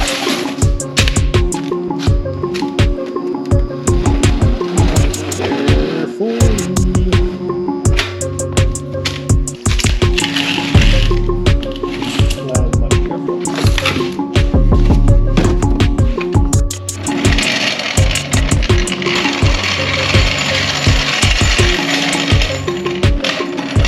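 A car jack being wheeled and pumped in a garage beside a 1987 Toyota MR2, a long run of loud, close metallic rattles, clanks and ratcheting strokes in an irregular rhythm, with no talking.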